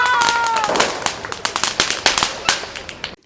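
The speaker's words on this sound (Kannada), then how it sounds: "ಪಟಾಕಿ ಹೊಡಿತಾ ಇದ್ದಾರೆ." Firecrackers burst at a Diwali celebration, a rapid string of sharp cracks and pops at close range that stops abruptly.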